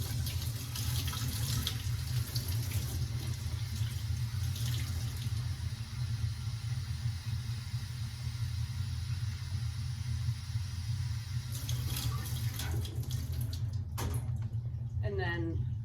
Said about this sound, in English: I just fill it up the rest of the way with the same temperature water